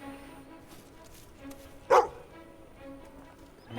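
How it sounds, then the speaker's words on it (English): A single short dog bark from the Fable video game, one sharp burst heard midway over a steady bed of game music and ambience. "Dog says there's another dig spot."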